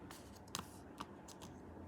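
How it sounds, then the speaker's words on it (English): Trading cards being shuffled into a deck during a card game, with soft, quiet riffling and a few sharp flicks and taps spaced through a close, faint scene. "then you just send 4 cards back to the deck and shuffle"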